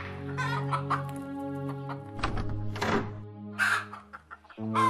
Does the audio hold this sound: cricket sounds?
no